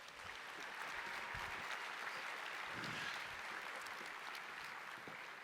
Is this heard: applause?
yes